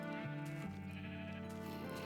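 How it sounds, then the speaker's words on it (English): A video game sheep gives a drawn-out, wavering bleat, clear and up close, over a steady droning background with no talking. "There is sheep though, which is nice."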